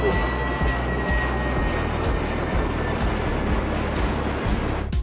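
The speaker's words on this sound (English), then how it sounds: "For example, an airport." Airport ambience: a continuous broad roar of aircraft noise fills the space, with steady rumble and faint repeated thumps beneath, loud and unbroken throughout.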